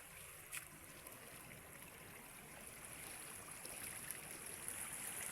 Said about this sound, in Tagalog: lakas ng pasok ng tubig